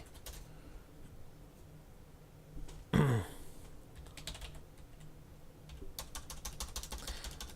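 Fingers tapping a password on a computer keyboard during a software install, quiet clicks spread across the stretch with one louder thump near the middle and a denser flurry of keystrokes toward the end, no talking.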